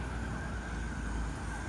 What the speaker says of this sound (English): it's an ambulance heading up the opposite direction